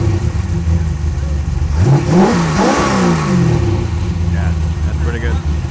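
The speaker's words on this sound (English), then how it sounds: "Rev it up a little bit." A Corvette C5 LS1 V8 idles close by, then revs up in one rising and falling sweep before dropping back to a steady idle. A brief voice follows near the end.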